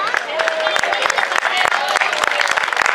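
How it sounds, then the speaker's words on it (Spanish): A beachside audience of children and adults at a clown show claps loudly and steadily, sharp individual claps standing out in the dense patter, with a few voices rising over it. "Un aplauso."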